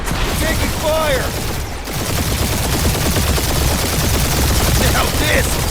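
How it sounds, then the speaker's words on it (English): Rapid turret gunfire in a Guardians of the Galaxy space dogfight on PS5, dense continuous bursts of shots with a few sci-fi chirps and whooshes, loud and close throughout. "Crap, that's a lot of turrets. Try not to get shot, Quill."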